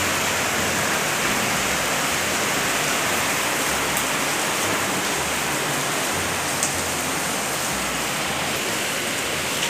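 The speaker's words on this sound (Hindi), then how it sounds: "आगे कर, सारे प्लांट धुल जाएंगे अच्छी तरह से।" Continuous hissing spray of water splashing steadily onto plant leaves, including aloe vera, a dense, even rush with no pauses and no voices.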